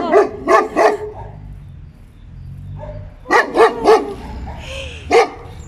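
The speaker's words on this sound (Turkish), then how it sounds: "Ama bir sürü köpek var burada. Ve havlıyorlar yabancı birisini gördüğümde." Several dogs bark outdoors on a Belgrade street, loud and close, in a quick burst of three barks, then a pause and another run of three, with one last bark after a brief gap.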